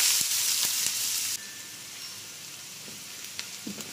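Onions hit hot oil with cinnamon and fennel seeds, a bright loud crackling sizzle that drops suddenly to a gentler steady frying hiss, with a few light stirring taps near the end.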